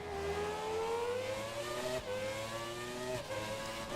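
Classic 1996 Williams F1 car in the F1 2017 video game on the Baku circuit, engine note climbing steadily through the gears with two brief shift dips, a continuous high-revving whine heard alone.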